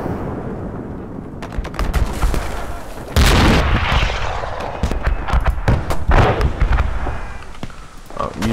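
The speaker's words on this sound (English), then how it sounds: "Let's see if we can get it with the main gun." Tank main gun firing in the Gates of Hell game's Finland campaign: loud, deep booms and blasts, with a heavy shot around the middle and more impacts later, over a continuous rumble of battle with scattered gunfire cracks.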